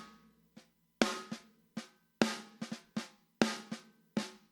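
A compressed snare drum is struck about a dozen times in an uneven pattern, each hit sharp and punchy with a quick decay, processed through UComp5 with a fast attack, dry and alone.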